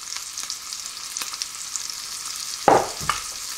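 Scallops sear in a hot pan with a soft, steady sizzle and crackle, then a couple of louder clinks and scrapes near the end as they are moved.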